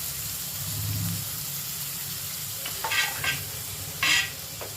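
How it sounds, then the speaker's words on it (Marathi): Onion, garlic, turmeric and curry leaves sautéing with salt in a pan for a young jackfruit vegetable dish, a soft steady sizzle with a few sharp clinks of a spoon against the pan near the end. "आता यात मीठ घालून परतून घ्यायचं आहे."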